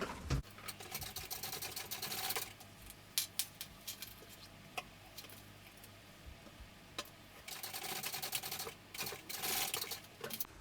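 Sewing machine top stitching a fabric baby sling, running in quick rattling bursts separated by short pauses, close and fairly quiet, with small clicks and fabric handling between runs.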